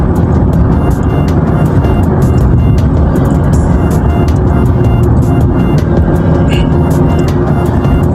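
A car drives along a highway near Riyadh airport, with loud, constant road and engine rumble heard from inside the vehicle throughout and no break in the noise.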